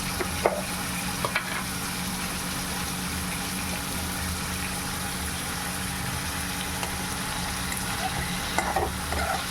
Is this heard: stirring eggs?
yes